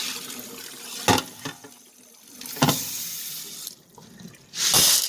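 Tap water runs over soybeans being rinsed for kongguksu, coming in short gushes and splashes separated by quieter dripping and handling, with a louder final rush of water close by.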